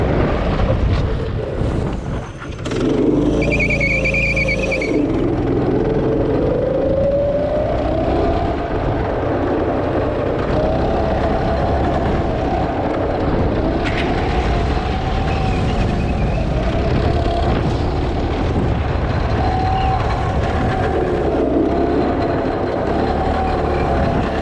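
Vintage track go kart powered by a Predator 212 engine, running loud and steady with a droning, shifting engine note over about twenty-four seconds, rising and falling as it spins its tires.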